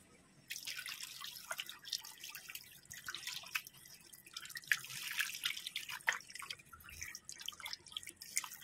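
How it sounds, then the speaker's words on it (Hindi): Pieces of fish are rubbed and rinsed by hand in clean water, giving close, irregular splashes, drips and sloshing that continue steadily with no talk. "सबसे पहले यहाँ पर हम साफ़ पानी से एक दो पानी यहाँ पर मछली को धो लेंगे"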